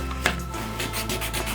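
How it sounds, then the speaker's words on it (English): Popsicle sticks lined up and rubbed with a nail file or sandpaper, making close, dry rasping strokes in a quick back-and-forth rhythm with a brief knock near the start. "Sand it down with your nail filer or your sandpaper."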